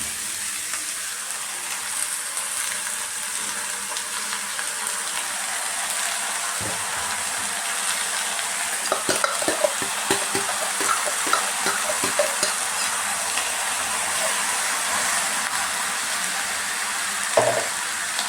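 Pieces of bottle gourd fry in a pan with a constant broad sizzle, as a spoon scrapes and clicks through them in a cluster of stirs near the middle and a knock near the end, close, with no talking.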